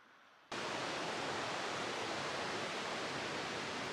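Class 3 rapids on the Suwannee River at Big Shoals in Florida give a steady, broadband rush of churning water that swells in abruptly after a quiet half-second and then holds, close and loud, with no voices.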